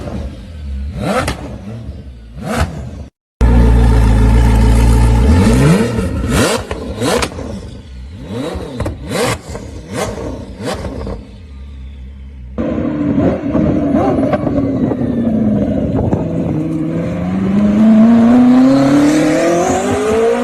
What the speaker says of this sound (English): this thing spits flames with a twin turbo V8 in the back